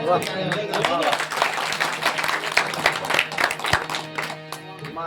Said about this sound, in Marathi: टाळ्या सुद्धा अशा मनापासून वाजल्या पाहिजे.